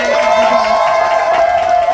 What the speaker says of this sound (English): Can we give a little big round of applause?